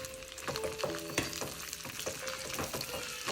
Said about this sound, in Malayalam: ഇതിലേക്ക് നമ്മൾ അണ്ടിപ്പരിപ്പ് അണ്ടിപ്പരിപ്പ് ഇട്ട് കൊടുക്കാം